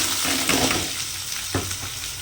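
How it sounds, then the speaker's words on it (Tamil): Sliced large onions frying in hot oil, a steady dense sizzle with a few louder bursts as the pieces are stirred, close and continuous without speech. "எண்ணெய் நல்லா காஞ்சிருச்சு நம்ம வெங்காயத்தை போட்டுக்கலாம்"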